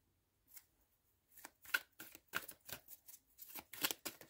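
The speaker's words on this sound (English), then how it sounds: "I'm shuffling all the oracles out first before I do the reading." Oracle cards are shuffled by hand before a reading, a quiet run of quick papery riffles and flicks in uneven bursts, alone without talk.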